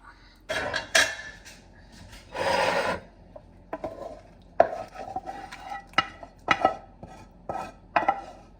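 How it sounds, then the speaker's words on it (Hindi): Chutney masala ground by hand, with irregular scraping and grinding strokes, some long rasping rubs and sharper clinks of utensil on vessel, close and fairly loud with quiet gaps between. "मैं इसको पीसूँगी थोड़ा सा ऐसे भी, फिर इसमें मिक्स कर देती हूँ।"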